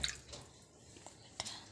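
Corn cobs being washed in water, with faint scattered drips, splashes and squishy handling noises, quiet and close, plus a few soft breathy mouth sounds between them.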